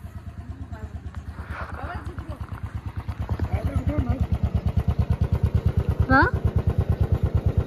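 A father's freshly serviced motorcycle idles nearby with a steady, loud, rapid engine pulse throughout, while a person talks over it.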